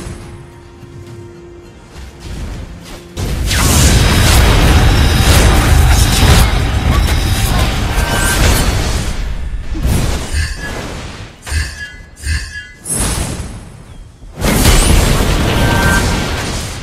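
Mobile Legends: Bang Bang battle with Pharsa as a turret comes under attack: loud, dense bursts of explosions and shattering impacts that rise and fall in waves, with short quieter gaps and a sudden loud surge near the end.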